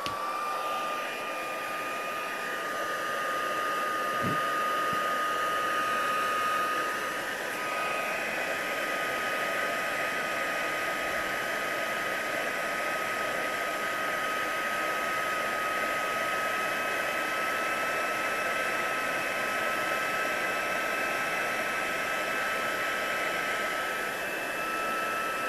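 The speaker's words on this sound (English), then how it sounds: "So with the heat tool, I want to just let it heat up for a moment, so bear with me for the noise" An embossing heat tool heats up for card making, a steady, even blowing whir like a hair dryer with a faint high whine that holds for the whole stretch, with no talking.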